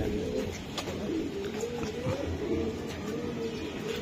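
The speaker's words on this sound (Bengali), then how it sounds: "এটা পুরান জাতের ছাড়াছাড়ি লাইনের জাক কবুতর" Jak pigeons of an old racing line coo softly and repeatedly in a low, rolling rhythm close by, with faint background noise and no talk.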